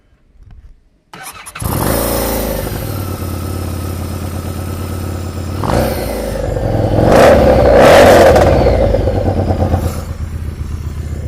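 A Harley-Davidson Street 500 motorcycle with a Screaming Eagle full-system exhaust cranks and fires up, then settles into a loud, rumbling idle with a few deep throttle blips, close by.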